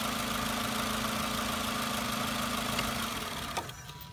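A car engine idles steadily with the mass air flow sensor unplugged, then winds down and stalls near the end, leaving quieter background sound.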